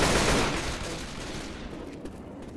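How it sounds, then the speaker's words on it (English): Dense gunfire in the zombie shooter game Left 4 Dead, a loud burst of overlapping shots that fades into a rattling trail of scattered rounds over a couple of seconds. "Watch where you're shooting."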